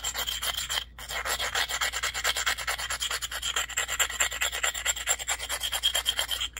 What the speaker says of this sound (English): I'm going to grind, make that edge rounded.